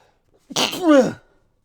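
A single sharp sneeze, close and loud, with a quick inhale and burst, then silence.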